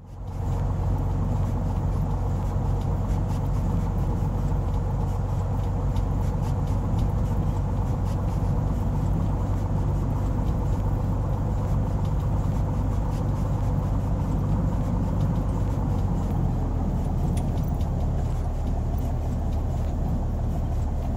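Cessna T182T single-engine piston aircraft taxiing toward the runway in Microsoft Flight Simulator, a steady low droning engine rumble that continues unbroken and fairly loud throughout, with no talking.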